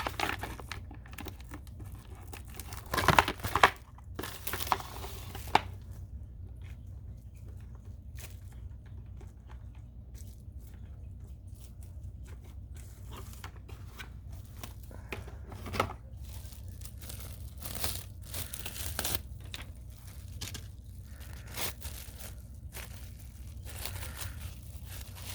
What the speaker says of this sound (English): Get it in some cellophane so I can recondition it to re-roll it back out again.